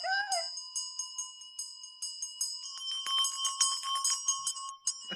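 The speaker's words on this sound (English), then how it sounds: "Do we need a little bell?" A small bell rings in a quick run of bright, clear metallic strikes that overlap and shimmer. It starts after a brief swelling tone and keeps going steadily and fairly close, with no talking.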